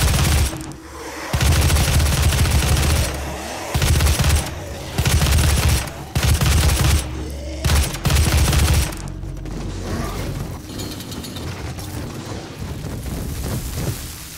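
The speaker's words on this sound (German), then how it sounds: "wir holen mal dieses Sturmgewehr raus. Gucken, was er so kann." Rapid bursts of assault rifle fire in the PS4 game Doom, loud, repeated volleys separated by short gaps, followed by quieter mechanical and ambient game sounds.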